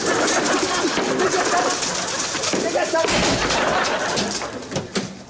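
Pigeons coo and flutter nearby amid noisy outdoor clatter, with a few sharp bangs and a raised voice in the background.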